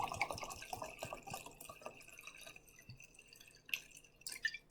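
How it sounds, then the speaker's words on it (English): Liquid for a homemade liniment being poured into a measuring cup, giving faint, uneven trickling and dripping close by with small splashes, with no talk. "get the measuring cup, and pour the rest in"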